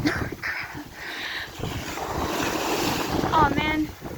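Ocean waves wash in at the water's edge of a beach while wind buffets the microphone, a continuous rushing surf with gusty rumble, and a few brief vocal sounds break through near the start and end.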